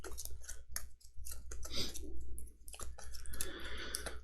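A travel deck of playing cards from a tabletop board game is shuffled by hand, with a rapid series of crisp riffling clicks and snaps, close and continuous with brief pauses.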